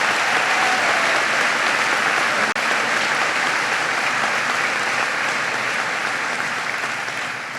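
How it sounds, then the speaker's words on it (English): Loud, sustained applause from a large audience at a university commencement ceremony, steady dense clapping throughout with no break. "Give them all a big round of applause."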